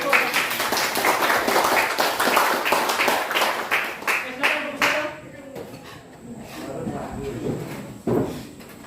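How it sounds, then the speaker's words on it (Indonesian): A classroom of students claps for a group about to present in a mathematics class, a steady burst of many hands through the first half that thins out into scattered claps and room noise. "Tepuk tangan dulu untuk kelompok satu"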